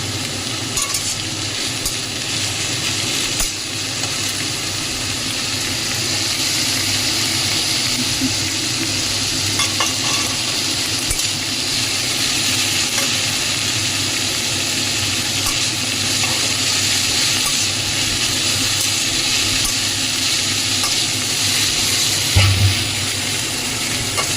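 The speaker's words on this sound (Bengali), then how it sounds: "এখানে আর 4টে বড় পেঁয়াজ আছে। এটাকে ভাজা করতে হবে।" Four large onions frying in a pan on a gas stove as part of a chicken curry, a steady close sizzle running unbroken with occasional stirring clicks and no talk.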